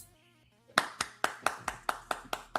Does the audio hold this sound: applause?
yes